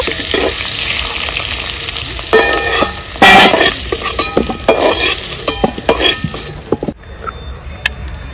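Potatoes fry hard in a pan for a village-style mutton curry, a loud, steady sizzle broken by scraping and clinking as they are stirred and lifted, with no voices.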